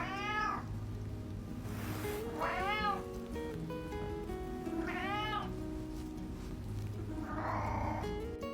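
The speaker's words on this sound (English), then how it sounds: "he began meowing for attention, for food, or simply to say he noticed she had left the room." A rescue cat named Reddington meows four times at steady intervals, each cry rising and falling, fairly faint over a low background hum in a quiet room.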